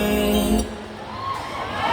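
A crowd at a temple fair concert cheers and shouts, a short loud burst of whoops and screams that dips briefly and swells again.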